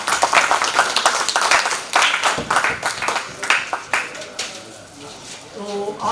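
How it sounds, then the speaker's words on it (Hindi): Children clapping at a Khelo India sports workshop in Delhi, lively irregular handclaps from a crowd that swell and then fade out, with a voice beginning to speak at the end. "तालियां बजाएं बच्चों।"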